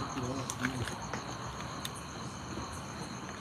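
Crickets chirp steadily at night beside a railway track, a thin continuous insect trill with faint, brief voices murmuring low in the background.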